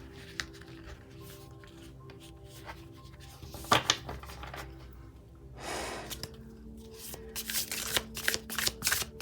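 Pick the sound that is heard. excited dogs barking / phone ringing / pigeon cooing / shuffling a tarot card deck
shuffling a tarot card deck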